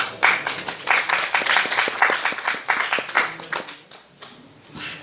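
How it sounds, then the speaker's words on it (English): An audience applauds a rabbi being introduced at a talk on Modern Orthodoxy, dense steady clapping from a roomful of people that swells, holds, and then thins out toward the end. "We get that much applause at the end"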